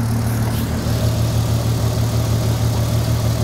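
A VW Golf R32 engine idles close by with a rough, lumpy, low throb that stays steady and loud throughout, with no talking over it.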